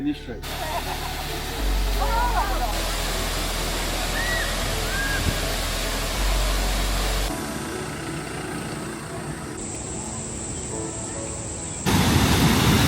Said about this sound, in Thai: ถ้าเราอยากเห็นแบบน้ำตกชัดๆ ก็คือลงมาด้านนี้จะเห็นน้ำตกแบบว่าชัดมาก